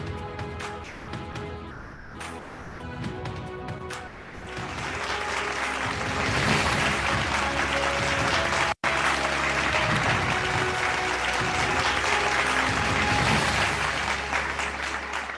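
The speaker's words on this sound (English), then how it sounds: "Thank you for the applause" A crowd at a legal education event in India breaks into loud, sustained applause, starting lighter and swelling into a dense roar of clapping that continues for over ten seconds with a brief cut midway.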